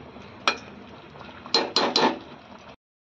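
A metal lid is set onto a cooking pot (handi) of chicken, one clank followed by a cluster of three close metallic clatters as it settles, then silence.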